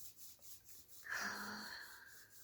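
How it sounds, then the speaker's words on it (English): Palms rub briskly together in one continuous friction stroke lasting about half a second, close and fairly quiet in a calm room, with no talking over it. "Let us rub our hands together."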